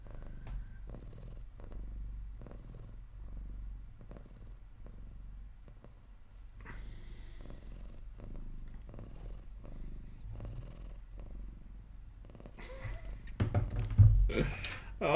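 A cat purring close by, a steady low rhythmic rumble throughout, with a few soft knocks and some louder movement near the end.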